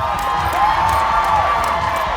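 A crowd cheers and whoops for a climber at a climbing race, a loud, dense burst of voices filling the short moment.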